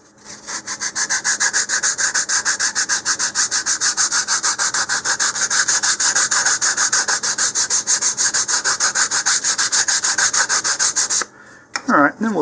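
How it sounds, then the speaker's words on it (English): Close, steady hand sanding of the wooden edge on an Estes Star Orbiter model rocket part, a dense run of quick rhythmic rubbing strokes that keeps up evenly for about eleven seconds, then stops and is followed by a brief scrape. "I'm just going to rotate my wrist as I'm sanding here to round this over"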